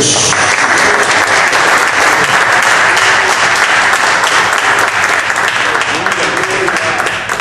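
A church congregation at a men's ministry service claps loudly and continuously, a thick wash of applause that holds steady throughout and only eases slightly near the end.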